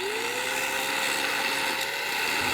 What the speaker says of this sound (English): let's grind our stop